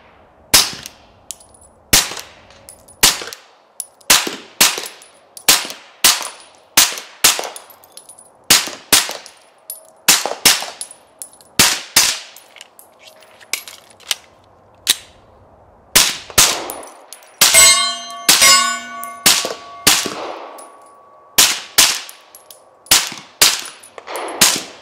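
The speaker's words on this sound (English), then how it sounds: "I'm gonna be shooting some of the 150 grain Federal Syntec ammo. I just found that this shoots well suppressed in the past." Suppressed PSA Dagger pistol firing 150 grain Federal Syntec ammunition, a steady string of sharp, close shots spaced about a second apart, with a brief metallic ringing partway through.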